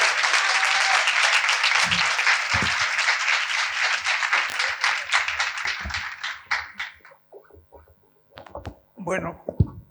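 Audience applause for Yuyo Noé at a talk on art and Borges, a dense burst of clapping that thins out after about six seconds into scattered claps and a few voices.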